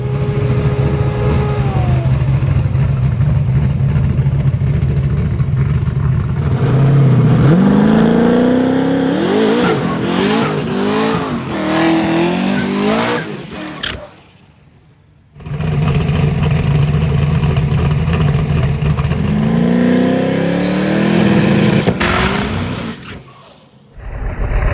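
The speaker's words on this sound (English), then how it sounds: "I'm trying to do a decent burnout this time." A Corvette drag car at a Bradenton test-and-tune session roars loudly through a burnout, its engine revving hard and rising in pitch twice with a brief drop to near-quiet between, close and alone.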